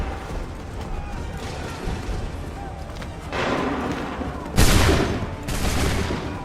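A musket volley fires in the video game Assassin's Creed 3, with bursts of loud, crackling gunfire in several waves over steady battlefield noise, the heaviest blast near the end.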